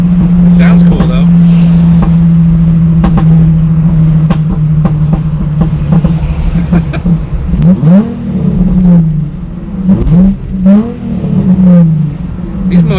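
A Nissan Z car engine with a muffler delete drones loudly and close, then blips through several quick revs, with someone talking over it.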